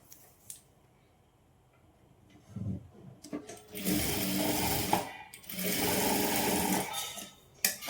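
Sewing machine stitching seams on a saree blouse, starting with brief taps and then running in two sustained bursts of steady whirring, close and fairly loud, with no talk.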